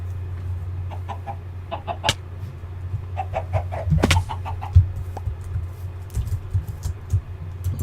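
Minecraft chickens cluck in short, scattered bursts over a steady low hum, several soft clucks coming in quick clusters at close range, with a sharper peep standing out partway through.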